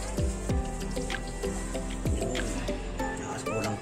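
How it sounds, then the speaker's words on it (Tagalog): Thick coconut milk broth splashes and plops into a pot in several gurgling pours, close by, with some background clatter. "lagyan na natin ng sabaw"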